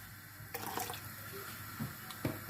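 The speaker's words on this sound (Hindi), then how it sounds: "इस टाइम 1 कप मज़ीद पानी का ऐड करेंगे। यह पानी हमारे पास ठंडा है" Cold water poured into a pot of Kashmiri pink tea (kahwa) as it cooks, a short close splashing pour with a few louder gurgles, no talk.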